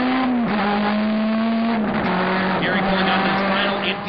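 Race cars, a Subaru Impreza and a Honda S2000, battle on a circuit, with a loud sustained engine drone shifting pitch through the run, with faint tire noise and some background talk.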